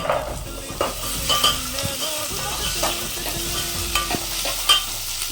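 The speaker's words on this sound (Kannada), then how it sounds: "ಬಟಾಣಿನ 2 ಮಿನಿಟ್ಸ್ ಫ್ರೈ ಮಾಡ್ಕೊಂಡಿದ್ದೀನಿ ಚೆನ್ನಾಗಿ" Peas fry with browned onions in a pan for a mushroom gravy, a close steady sizzle overlaid with frequent scraping strokes and metallic taps of a stirring spoon, no voices.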